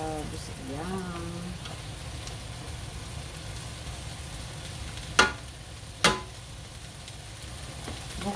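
Crabs fry in a hot pan with a constant soft sizzle, broken by two sharp clanks close together as the pieces are flipped, then the sizzling carries on alone.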